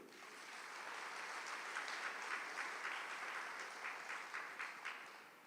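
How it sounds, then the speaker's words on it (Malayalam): Sustained audience applause fills a talk hall on family life by Fr George Panackal, a steady wash of many hands clapping at moderate loudness, fairly distant, with no voices over it. "ഒന്ന് കൈയുയർത്തി കൈയടിക്കുക"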